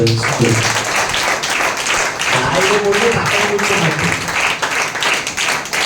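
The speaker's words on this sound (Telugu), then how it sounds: "గట్టిగా చప్పట్లు కొడితే దెయ్యము పారిపోతానట్టుగా కాకుండా మరొకసారి చప్పట్లు కూడా దేవుని" Congregation applauding in a church service, sustained clapping from a crowd, loud and close, with a voice speaking over it at the start.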